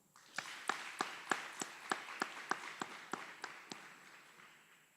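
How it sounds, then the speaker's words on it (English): Steady, evenly spaced clapping at an Army aviation brigade graduation ceremony at Fort Eustis, honouring drill sergeants and instructors, with sharp claps ringing out in a regular rhythm before thinning and fading. "Please join us in giving a round of applause to these outstanding drill sergeants and instructors"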